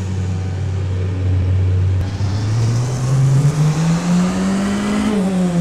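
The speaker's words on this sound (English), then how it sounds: "You kind of have to over rev the car just to be sure." A race car engine in rFactor 2 drones steadily at high revs, then climbs in pitch as it is over-revved, a loud continuous close whine with no talking.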